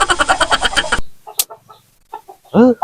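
A chicken clucks in short, rapid, repeated bursts up close, then gives a few sparser, quieter clucks and one louder squawk after a brief pause.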